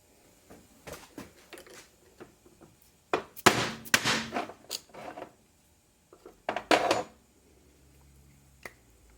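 An oil seal is worked out of a Saginaw Model 708 power steering gear: scattered metallic taps and clanks, with a few louder clusters of knocks in the middle, set against quiet gaps.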